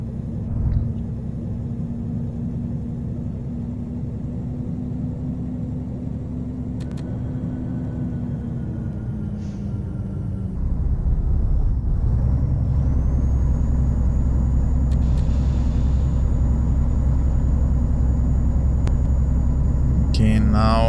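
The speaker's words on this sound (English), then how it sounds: "Some retarder again. I like the sound of the retarder also," A DAF XF 105 truck with a Paccar MX engine sound mod in Euro Truck Simulator 2 hums under retarder braking on a downhill, a steady low drone that deepens and grows louder partway through, with a faint whine above.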